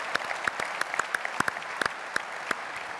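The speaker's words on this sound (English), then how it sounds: "yeah, that deserves an applause" Scattered applause from a conference audience, a modest crowd clapping with distinct individual claps standing out over a soft, continuous patter, heard alone and at moderate distance.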